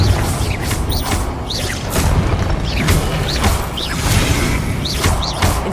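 Repeated magical blasts from a Confringo fire spell in Hogwarts Legacy, several loud whooshing bursts with booming impacts arriving in quick rhythm over game background sound.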